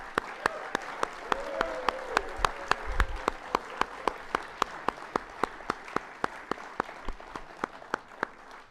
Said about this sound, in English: how about one more round of applause and congratulations to the 2022 and 2021 class